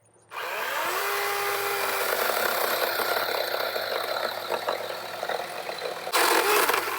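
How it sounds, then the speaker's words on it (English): A rechargeable electric chainsaw starts up and cuts through firewood, a sustained motor whine with rising pitch and rattly cutting noise for several seconds, growing louder near the end. "Rechargeable electric chainsaw."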